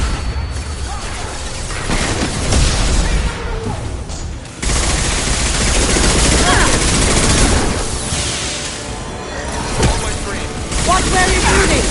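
Dense, loud bursts of rapid gunfire from the video game Mass Effect Legendary Edition rattle almost continuously, with a brief lull, under occasional game voices.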